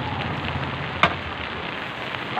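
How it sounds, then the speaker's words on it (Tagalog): Steady rain falling outdoors after a storm has passed, a dense even hiss of drops hitting surfaces, with one brief sharper splash or knock partway through; no talking. "Wala nga kasi wala nang bagyo. Ulan lang."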